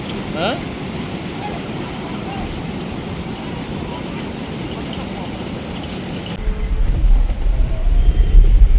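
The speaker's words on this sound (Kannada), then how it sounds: "ನೇತ್ರಾವತಿ ನದಿ ನೋಡಿ ಇಲ್ಲಿ ಎಷ್ಟು ಜೋರಾಗಿ ಹರಿತಾ ಇದೆ" Netravati river rushing strongly in heavy rain near Dharmasthala, a loud continuous broadband roar of flowing water that swells louder toward the end.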